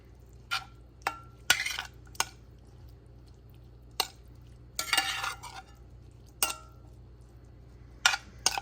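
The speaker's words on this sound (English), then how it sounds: "I'm just going to give all of this a really good mix." A tablespoon stirring taco seasoning into drained canned corn and other ingredients in a pan, making scattered scrapes and clinks at close range against a quiet background, with no talk.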